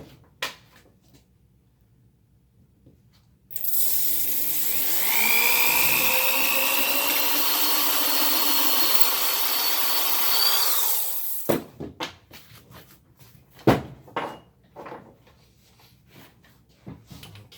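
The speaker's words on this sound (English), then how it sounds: "We are continuing the process of drilling the hole in the slider" A power drill bores a hole through a Seydel Saxony harmonica slider with a progressively larger bit, a steady high whine for several seconds, then stops; scattered clicks and small handling knocks follow, close up.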